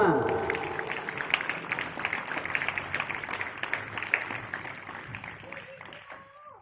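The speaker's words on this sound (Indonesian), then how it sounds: "Beri tepuk tangan untuk kelas 5." Students at a pesantren opening ceremony applaud class 5, a sustained wash of clapping from a large crowd that fades toward the end, with voices mixed in.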